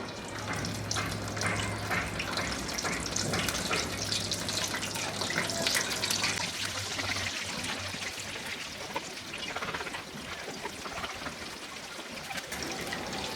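Potato snacks fry in oil heated over high heat, giving a steady, dense sizzle and crackle that carries on evenly throughout, close and moderately loud.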